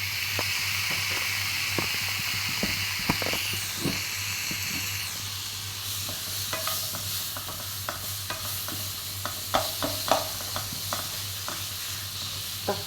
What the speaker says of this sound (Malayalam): ഇനി ഇതിലോട്ടൊരു തക്കാളി ചേർത്ത് കൊടുക്കാം